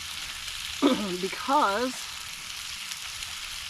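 Pancakes fry over a campfire at Rancho Seco nuclear power plant, a steady soft sizzle under a brief spoken word and a short whistled or sung phrase.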